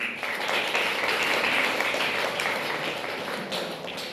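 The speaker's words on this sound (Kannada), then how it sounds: "ಆ ವಿದ್ಯಾರ್ಥಿಗಳಿಗೆ ಜೋರಾದ ಚಪ್ಪಾಳೆ" Loud, sustained applause from an audience at a first-grade college event in Ramdurg, honoring students, steady dense clapping throughout with no voices.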